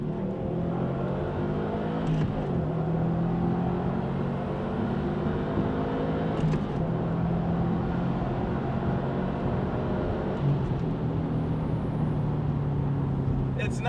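Continuous engine drone of a car accelerating on a wet track in a video game, steady loud harmonic roar with brief shift dips around two and six seconds, with a voice talking over it.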